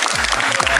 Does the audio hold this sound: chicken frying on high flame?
no